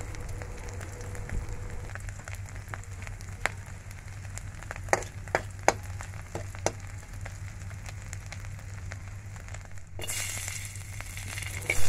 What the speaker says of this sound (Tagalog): Mas masarap din kasi yung pritong tuyo guys na medyo may manti-mantika.